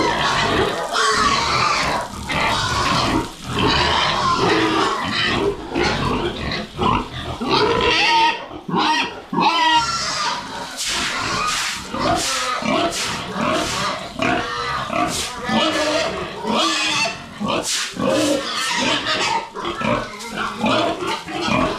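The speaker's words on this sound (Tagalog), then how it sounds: "At ito po si Natso, yung ating barako." Pigs grunt, squeal and oink loudly and continuously in a pen, among them a boar, with overlapping snorts and sharp squeals close by throughout.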